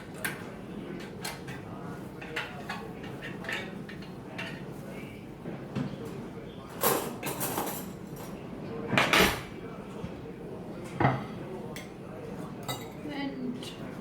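Metal utensil scraping and clinking against a baking pan as food is lifted out, scattered taps and a few louder scrapes under quiet talk.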